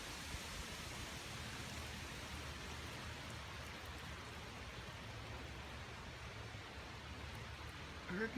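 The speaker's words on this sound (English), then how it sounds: "We got a lot of rain." Heavy rain from Hurricane Joaquin falls steadily at an inland North Carolina home, a constant, even wash of noise at low level throughout with no other sounds standing out.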